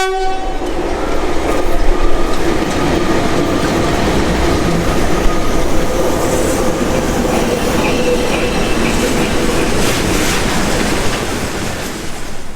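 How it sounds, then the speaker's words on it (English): Soviet DC electric locomotive hauling a train past in a Georgian town, opening with a loud horn blast and followed by a long, steady roar of wheels clattering and rumbling on rails, with occasional squealing overtones. "It's one of the most common series of electric locomotive with direct current in Russian railways"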